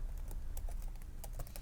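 Quick, light taps on a computer keyboard as a note is typed into a lighting console's fixture settings, an irregular patter of close clicks at low level.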